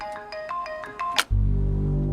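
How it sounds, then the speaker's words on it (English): A phone plays a quick, repeating electronic ringtone melody in short bright pulses. It cuts off abruptly and a low steady hum follows. "John Brennan receives a weird phone call."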